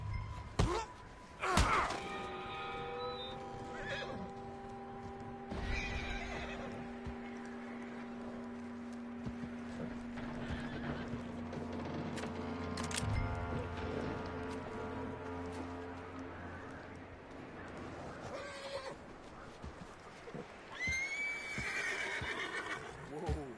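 Horse neighing loudly and whinnying repeatedly in Red Dead Redemption 2, with hoof clops and game music in the background and someone talking to calm the animal.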